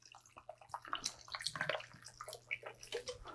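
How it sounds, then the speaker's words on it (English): Ginger beer poured from a can into a Moscow Mule mug, a steady splashing, fizzing pour that rises and falls in bursts at close range, with no talk. "I'm just going to pour about half of this in."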